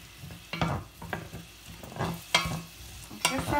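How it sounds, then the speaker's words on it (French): Onions sautéing in a pan, sizzling while a spoon stirs them, with several distinct scraping strokes at an uneven rhythm over a low background sizzle. "je vais faire revenir un petit peu mes oignons"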